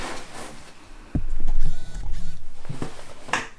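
Domestic sewing machine stitching along the outer edge of homemade jeans, a close motor whir that runs steadily for about two seconds, stops, then starts again briefly, with no talking.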